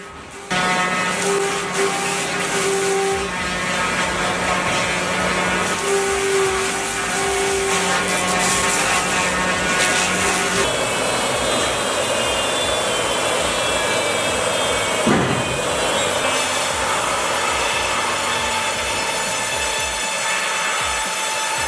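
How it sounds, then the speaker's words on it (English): Huge firewood processor debarking and cutting logs, a loud continuous mechanical roar with grinding and sawing noise, sustained whining tones and a brief sharp crack midway, running steadily throughout without talk. "Debarking and reducing logs in one go means less waste, faster work, and safer operation with metal detection built in."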